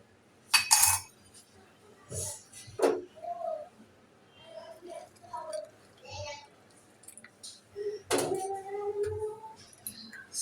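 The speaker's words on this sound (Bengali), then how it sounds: "তো চাটা ঢেলে নিব।" Tea is poured into cups at home, with a few sharp, close ceramic clinks spaced out among quieter handling sounds while voices talk intermittently.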